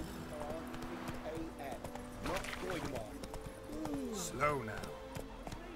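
Roach the horse's hooves clip-clop at a slow pace in The Witcher 3, a steady rhythm of hoof falls with a soft snort, while someone speaks briefly and background music plays.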